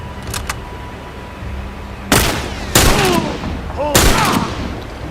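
Sharp gunfire rings out in the zombie video game The Last of Us, with three loud, heavy shots spaced about a second apart, each followed by a trailing echo over low game ambience.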